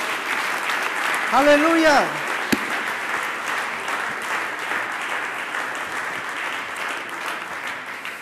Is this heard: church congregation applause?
yes